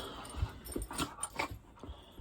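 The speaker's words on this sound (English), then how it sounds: "The dogs." Dogs close by making short, soft huffs, pants and scuffling movements in an irregular rhythm, fairly quiet.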